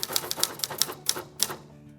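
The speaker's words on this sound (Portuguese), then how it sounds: "a velha e boa máquina de escrever" An old manual typewriter clacks through a quick uneven run of sharp key strikes, fairly close, then falls quiet at the end.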